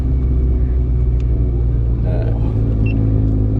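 An old Peugeot car engine labours with a deep, loud, continuous rumble while straining up a very steep hill in the UK, droning close by throughout.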